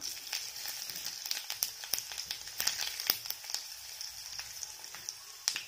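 Cumin seeds sizzle in hot oil with curry leaves and dried red chillies for manathakkali keerai poriyal, a steady hiss punctuated by frequent small pops and crackles.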